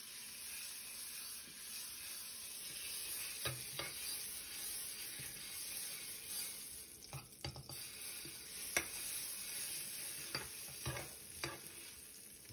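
Black garlic fries in oil in a pan, giving a soft, steady sizzle broken by scattered clinks and scrapes of stirring.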